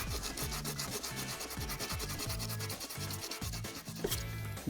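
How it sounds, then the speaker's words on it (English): Epoxy filler on crash-damaged Lamborghini carbon fibre is sanded flat with 80 grit sandpaper, a steady rhythmic rasping of back-and-forth strokes, close and continuous, with no voices. "use some 80 grit sandpaper and basically sand it flat"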